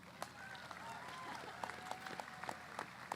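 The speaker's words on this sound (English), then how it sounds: "Give yourselves a round of applause." Graduates applaud at a university commencement ceremony, a faint, fairly distant spatter of clapping with scattered louder individual claps and a soft background hum.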